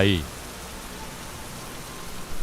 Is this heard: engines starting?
no